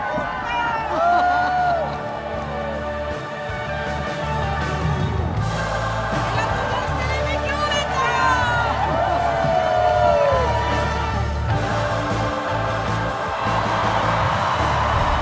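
A large audience cheers and whoops amid crowd hubbub, with shouting voices rising and falling over a steady roar of noise for the whole stretch.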